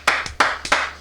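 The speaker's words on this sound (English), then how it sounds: "that deserves a Citizen Kane clap" One person claps slowly and deliberately, about four or five crisp, close hand claps spaced unevenly within a second, in a deadpan Citizen Kane style.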